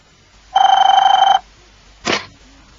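A single burst of telephone ringing, a bright electronic trill lasting under a second, followed by a short click or clatter, then quiet.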